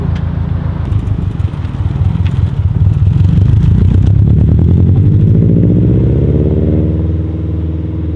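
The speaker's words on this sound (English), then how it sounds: "Going from a really loud and raspy exhaust to now a more subtle and like deep rumble." A Subaru STI with an Invidia G200 exhaust gives a deep, steady engine rumble while driving, loud and close, with the revs climbing smoothly partway through before settling.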